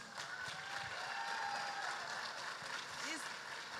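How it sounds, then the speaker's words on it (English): Faint, steady applause from an audience at a talk on chronic malnutrition, a soft continuous patter of clapping with a few voices faintly over it. "A big applause for him, please."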